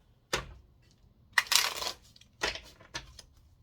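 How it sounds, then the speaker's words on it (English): Several short, crisp riffling bursts of a deck of cards being shuffled, close and fairly loud, separated by brief quiet gaps. "they told me give it one good shuffle"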